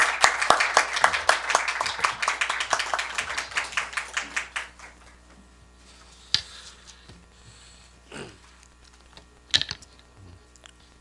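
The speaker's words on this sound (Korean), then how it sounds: "우리 주준성 선교사님 나오실 때 우리 여러분 박수로 환영해 주셨으면" A small church congregation at a Friday worship service claps to welcome a missionary. The quick, crisp claps start close and lively, thin out over about four seconds, and give way to near-silence with a few isolated knocks.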